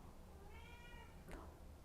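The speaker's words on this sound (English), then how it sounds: "I hear a cat." A cat meows once, faint and somewhat distant, over a steady background hum, followed by a short sharp noise.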